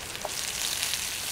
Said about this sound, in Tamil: இப்போ வெங்காயத்தை இதோட சேர்த்துருவோம்.